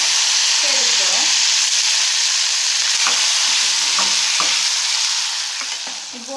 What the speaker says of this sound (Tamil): இந்த பட்டை கிராம்பு ஏலக்காய் இது எல்லாத்தையும் போட்டு தாளிச்சுட்டு போகிறோம்